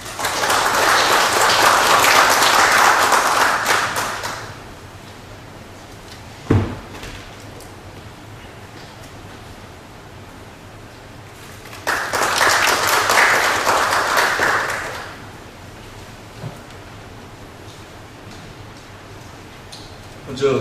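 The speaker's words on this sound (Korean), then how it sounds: "큰 박수로 맞이해 주시기 바랍니다." An audience at a Korean justice-ministry-hosted forum breaks into applause welcoming a speaker, with two separate bursts of clapping of a few seconds each, separated by a quieter stretch with a single knock.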